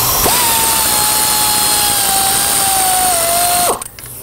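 A power tool whines steadily at high speed while running out an exhaust manifold bolt on a 2013 Camaro, a loud continuous drone with a slight pitch drop before it cuts off abruptly near the end.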